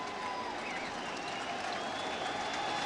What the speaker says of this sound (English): This crowd started getting into this game when LaDuca hit that home run in the 8th, and they've been with it every moment since